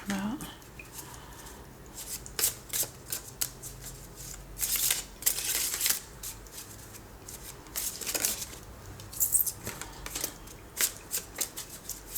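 Oracle cards are shuffled up close for a tarot reading, with soft, irregular riffling and flicking bursts that come and go.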